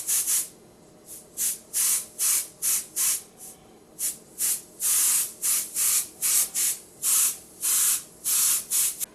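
An airbrush sprays paint in short, regular bursts of hissing air, close and loud, with brief pauses between strokes while painting fire and chrome effects, and no talking.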